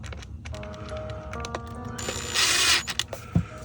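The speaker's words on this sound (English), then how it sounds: "you just screw this together." Screws being driven back into the plastic housing of a Soundcore Select 4 Go speaker: clicking, ratcheting turns, then a louder, brief whirring burst midway and a few sharp taps near the end, close and alone.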